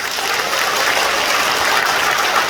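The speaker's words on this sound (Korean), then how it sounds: "시민 여러분 박수 한번 드리죠" Sustained applause from a seated audience at a party members' training lecture in a civil defense education hall, dense and steady clapping throughout with no speech.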